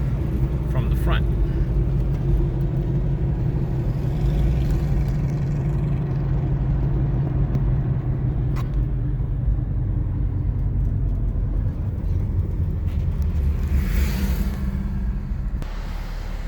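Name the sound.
car driving along a road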